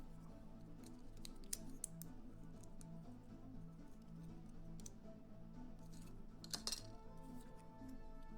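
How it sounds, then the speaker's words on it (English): Tin snips cut through material in a series of sharp metallic snips and clicks, scattered irregularly over a low background hum, with a denser cluster near the end. "These are tin snips."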